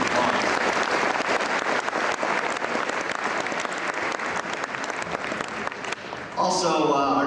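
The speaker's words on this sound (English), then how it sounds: "Let's give Joel a round of applause." Audience at a high school boys basketball team event applauding in a sustained, dense burst of clapping, loud and continuous, with a voice speaking over the end.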